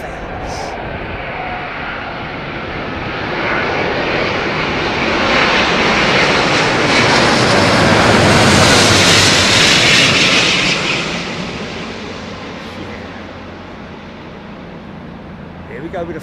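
An airliner lands at Heathrow Airport, its loud broad engine roar swelling as it passes close overhead and then easing off into a steady rumble.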